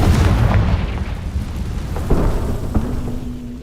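A Confringo blasting curse explodes in a Harry Potter video game, a loud, deep, rumbling boom that rolls on and slowly fades.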